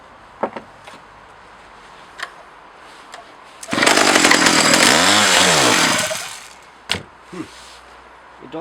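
A Stihl 010 chainsaw with a carburetor fuel-feed problem roars loudly for a couple of seconds, its pitch rising and falling as it struggles, before dying away into quiet, scattered knocks and clicks.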